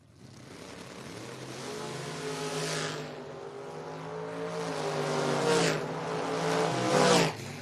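Door-car drag race launch, an S10 pickup against a Mopar, engines roaring loudly off the line and climbing in pitch through gear changes, with tire noise and a peak near the end.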